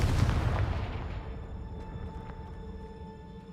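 A Confringo fire spell in the Hogwarts Legacy video game bursts with a loud, deep explosive boom that rolls off and fades over a few seconds beneath soft, sustained game music.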